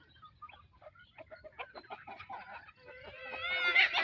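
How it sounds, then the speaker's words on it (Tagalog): Native Filipino darag chickens clucking close by, a run of short, uneven clucks that rise into louder, drawn-out calls toward the end. "Yan yung dalawang darag ko na darag native chicken"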